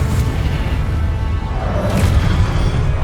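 Confringo spell blasts from Hogwarts Legacy, a dense rumbling boom with crackling bursts and a whooshing swell, loud and continuous through the moment.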